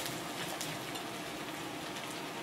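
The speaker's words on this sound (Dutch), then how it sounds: "En bak je het lekker tot de champignons zacht zijn en een kleurtje hebben." Chicken chunks and sliced mushrooms fry in a pan, giving a steady, soft, even sizzle that continues without a break at low volume.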